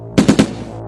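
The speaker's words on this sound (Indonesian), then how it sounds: "Tentara Linut 100 menembaki markas dari luar." Soldiers fire on a police headquarters in a rapid burst of three close, loud gunshots, each with a sharp crack and a short ringing tail, with no voices.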